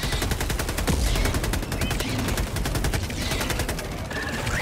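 Sustained automatic gunfire in Helldivers 2, a loud rapid rattle of evenly spaced shots that runs almost unbroken, with faint voices underneath.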